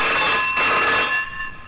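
A telephone rings loud and close with a continuous shrill electric trill that holds for about a second and then fades in a short comedy scene.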